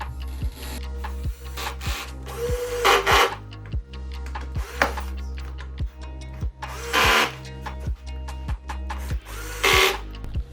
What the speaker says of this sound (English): For the legs, I'm just screwing these back onto the base as well